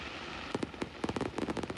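Rapid string of firecracker bangs, sharp cracks going off in irregular bursts, building into a dense crackling volley after a brief lull at the start.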